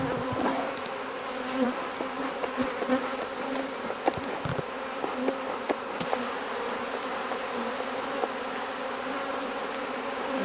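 Honeybee colony buzzing steadily as frames are handled, a dense close drone of many bees with occasional knocks and bumps, continuous for the whole stretch with no talk.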